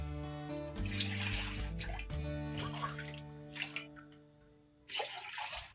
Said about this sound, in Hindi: दो गिलास पानी डाल लिए।